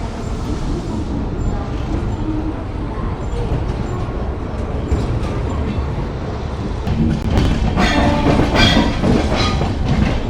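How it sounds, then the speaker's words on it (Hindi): Train 22479 rolls toward Delhi Sadar Bazar, a steady loud rumble with rhythmic clickety-clack of wheels over rail joints, growing a little louder toward the end, heard from on board. "दिल्ली सदर बाज़ार की ओर बढ़ती हुई हमारी ट्रेन।"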